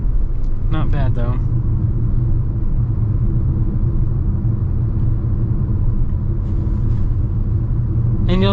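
Steady road roar from the tires and a light wash of wind fill the cabin of a 2025 Toyota RAV4 XLE Premium while driving, loud and constant, with a person talking briefly over it.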